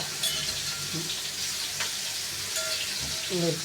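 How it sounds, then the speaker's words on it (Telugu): Bottle gourd and prawns frying in hot oil for a tomato curry, a steady close sizzle with faint stirring clinks and scrapes, and brief speech-like murmurs near the end. "ఇప్పుడు చూడండి, ఆయిల్లో ఫ్రై చేస్తున్నాడు."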